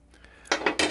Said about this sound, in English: Put the pot in the middle.